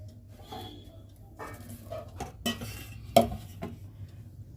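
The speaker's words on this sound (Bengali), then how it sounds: "এবার সবার জন্য বিরিয়ানিগুলো বাড়বো প্লেটে প্লেটে" Chicken biryani served from a pot onto plates in a home kitchen: metal spoon scraping and clinking against dishes in scattered, moderately close knocks, with one sharper clatter.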